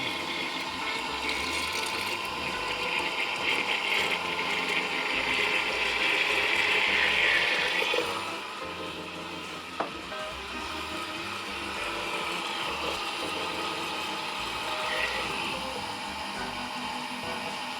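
A countertop jug blender whirs steadily as it blends vichyssoise with cream, a loud continuous churning roar that changes pitch partway through as the mixture thickens.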